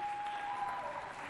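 Audience applause for the contestants at a televised quiz show, a steady dense wash of clapping throughout, with a faint tonal note running under it near the start.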